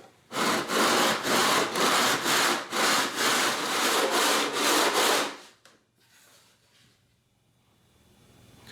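A wooden acoustic guitar top being sanded to a 30-foot radius gives loud, steady back-and-forth rasping strokes in a regular rhythm for about five seconds, then stops into near quiet.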